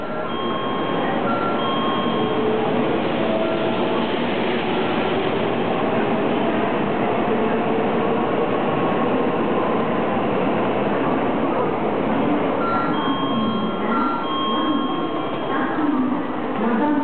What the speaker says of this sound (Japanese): 6時38分発のぞみ100号東京行きが到着いたします。